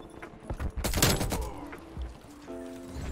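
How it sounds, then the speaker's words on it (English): A sentry gun fires in Call of Duty Black Ops Cold War as a dense, loud burst of rapid gunshots with impact thuds, followed by quieter scattered shots and electronic game tones. "Damn sentry gun, man."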